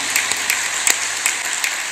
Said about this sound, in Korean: 우리 다시 한번 하나님께 감사의 박수로 영광을 돌리겠습니다.